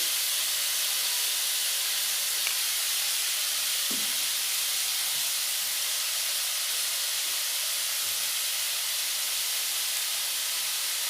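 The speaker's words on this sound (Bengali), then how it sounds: "দিয়ে এই মাংসটা 5 মিনিট আমি ভালো করে ভেজে নেব।" Chicken meat frying in a pan with chopped tomato, salt and turmeric for a Bengali-style chicken curry gives a steady, even sizzle and hiss that runs unbroken throughout, with no talking.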